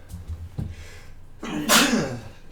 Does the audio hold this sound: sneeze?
yes